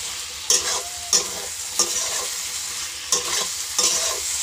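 Fried soybean chunks and potato are stirred into cooked spices in a pan, a steady sizzle broken by five or six sharp scraping strokes of the spoon at a loose, regular rhythm, close and alone with no talking.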